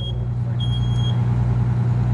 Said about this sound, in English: There's the smoke alarm.